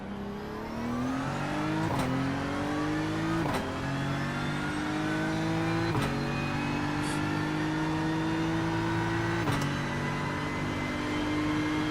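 A GT3 race car engine in the iRacing sim at Watkins Glen revs high and loud, running through several upshifts with brief dips between gears, a steady continuous drone from start to finish.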